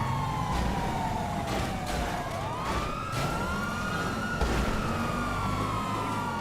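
A police car siren in the video game GTA Online wails, sweeping up and down continuously, with overlapping siren tones and engine noise throughout, loud and close.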